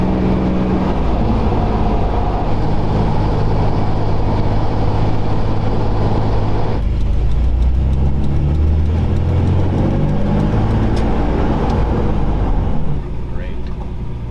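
A restored, lifted Chevy truck cruising on the road, its steady engine and road rumble continuous and close throughout, with a shift in tone midway as it keeps rolling.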